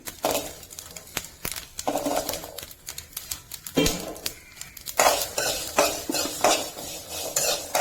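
Curry leaves and shallots frying in a pan for Kollam-style fish curry, heard as rapid clattering stirs and scrapes of a spoon against metal over a soft crackle, close and busy throughout.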